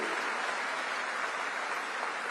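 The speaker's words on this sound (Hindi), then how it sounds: "जोर से जरा ताली बजाइए" A Delhi auditorium crowd at a political gathering claps in a dense, sustained burst of applause, steady and fairly distant, with no speech over it.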